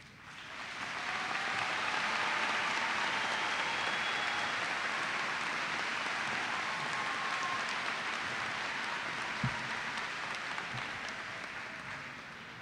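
A large commencement crowd applauds honor students, producing a dense, sustained wash of clapping that swells within a second and holds steady to the end.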